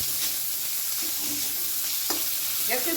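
Cut potatoes and beans frying in oil in a pan over a medium flame, a steady close hiss with a few scraping stirs of a spatula and soft clinks near the end.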